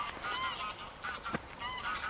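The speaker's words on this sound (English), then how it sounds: "Canada geese." Canada geese honk loudly and repeatedly outdoors in bursts of overlapping nasal calls, with a short pause in the middle before the flock starts up again. No voice is heard.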